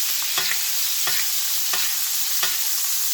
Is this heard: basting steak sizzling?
yes